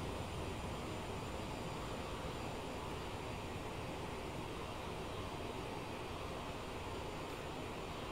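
Steady, even jet engine roar and rushing air surround the cockpit of an Aerosoft CRJ regional jet in Microsoft Flight Simulator as the throttles are pulled back, a continuous low hum without breaks.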